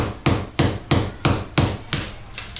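Hammer blows at a steady pace, about seven sharp, loud strikes each roughly a third of a second apart, close by and with no talk, during a DIY electric fan repair with Phillips screws.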